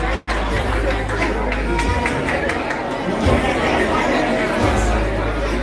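A packed crowd at an amateur boxing show in a Bronx gym, NYC Metro versus Puerto Rico, fills the room with steady loud chatter and babble, close and continuous.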